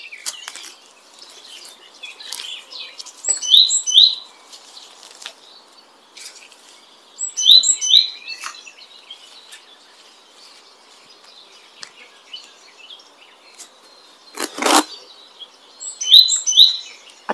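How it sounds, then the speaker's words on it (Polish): A tit sings from a tree in a vegetable garden, bright repeated whistled phrases recurring every few seconds over faint insect buzzing, with one sharp rustle in between. "A to sikorka tak ładnie śpiewa, bo tutaj siedzi na drzewie."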